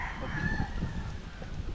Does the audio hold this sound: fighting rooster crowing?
yes